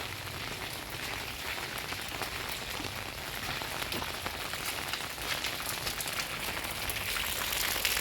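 The first winter rain falls in Duki as a steady, dense hiss of drops hitting surfaces, continuous and even throughout with no voices.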